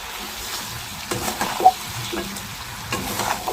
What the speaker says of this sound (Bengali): এখন একটুখানি ভালো করে কষিয়ে নেব।